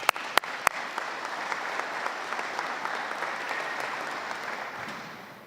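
Audience applause at a 2018 Veterans Appreciation Day event, steady dense clapping from a seated crowd after a committee chair is welcomed to the podium, with a few sharp louder claps at the start, fading slightly at the end.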